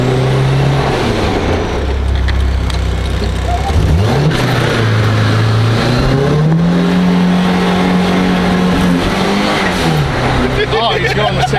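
Turbocharged Ford Pinto on a test ride, its engine droning steadily up close with rising and falling pitch as it accelerates and shifts, under people talking inside the car.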